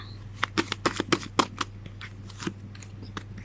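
Tarot cards shuffled and laid out on a table, with a quick series of crisp flicks and slaps followed by a few softer, scattered card placements, close and fairly quiet.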